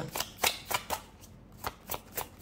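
Tarot cards being shuffled by hand before an advice card is drawn, a quick run of crisp riffling bursts in an uneven rhythm, close and fairly loud, with no talk over them.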